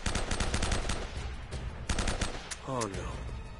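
Rapid bursts of M4 rifle fire in the video game Uncharted, loud and close, with repeated automatic volleys that pause briefly and then resume, over a steady game background.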